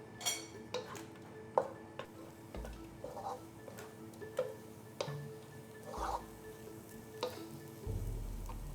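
Spicy potatoes for batata harra crisping in a hot pan over turned-up heat, a soft steady sizzle with scattered ticks and scrapes of stirring, close and moderately quiet with no talk.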